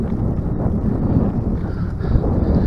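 Strong wind buffets the microphone while riding across flat, open farmland dotted with wind turbines, a loud continuous low rumble with no talk.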